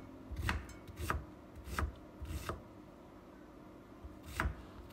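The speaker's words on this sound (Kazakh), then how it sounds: "Алдымен бір пиязымызды алып, видеодағыдай етіп турап аласыздар." A knife chops through an onion on a cutting board while a Kazakh-style horse-meat pilaf is being prepared, giving about six separate dull, close-up strikes at an uneven pace with no talking.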